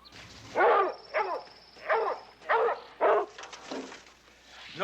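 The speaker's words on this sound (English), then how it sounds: "They got the dogs out." Several dogs bark in loud, repeated bursts, about five strong barks spaced roughly half a second apart, followed by softer yips, with no voices over them.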